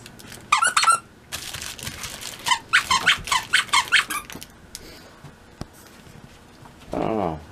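A small squeaky pet toy squeaks in quick bursts, a short cluster then a longer run of rapid squeaks, close and loud, followed by quieter rustling and a brief voice near the end.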